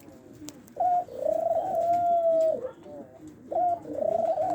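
A pair of doves gives soft, drawn-out coos, two long mellow calls with a short gap between them, close by over faint background noise and with no talking.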